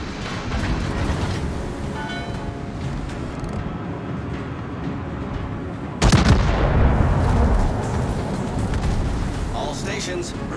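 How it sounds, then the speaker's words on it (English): Naval artillery firing at an enemy warship in a video game: a dense, rumbling barrage under a radio-style voice, then a sudden loud heavy blast midway followed by rolling booms and debris. "Concentrate fire on the enemy warship."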